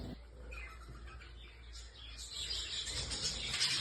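A colony of budgerigars gives faint, scattered chirps and tweets over low background hum, with the chatter growing busier toward the end.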